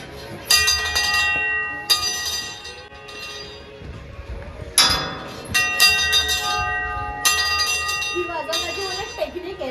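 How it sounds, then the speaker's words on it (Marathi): A love bell at the Gala Yuzawa snow resort in Japan is struck several times, and each clear metallic clang rings on and fades before the next. Outdoor background noise sits underneath. "आता ही आहे लव ऑफ बेल."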